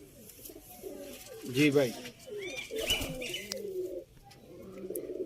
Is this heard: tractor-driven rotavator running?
no